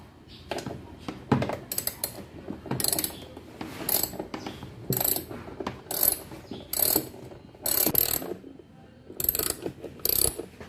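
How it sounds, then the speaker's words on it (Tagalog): A number 10 socket wrench ratchets in bursts while removing parts from a Suzuki Burgman scooter during a shock absorber upgrade, sharp clicking runs repeating close up with short pauses between strokes. "Ayan, number 10 na socket wrench."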